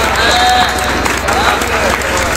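An audience at a Hindi comic poetry gathering breaks into loud, sustained clapping that fills the space evenly, with voices mixed in beneath it.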